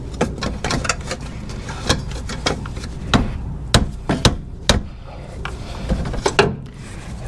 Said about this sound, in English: I'm gonna use my hammer. I can just hit it there a little bit